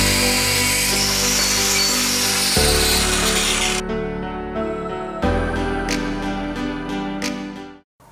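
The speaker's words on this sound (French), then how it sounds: "Là je coupe des fers plats de 500 mm de long." Power tool cutting flat steel bars 500 mm long in a workshop, a loud continuous grinding whine that shifts pitch as the blade bites and then cuts off at the end.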